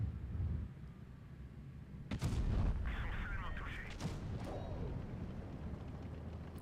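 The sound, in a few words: tank cannon shot in World of Tanks video game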